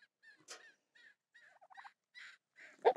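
Chickens kept by a person make scattered short clucks and chirps, sparse calls spread through the stretch with a louder burst at the end, close by and otherwise quiet.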